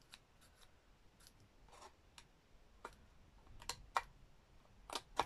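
Scissors snipping watercolour paper, a few short crisp cuts spaced irregularly, close and fairly quiet, growing louder toward the end with no talk.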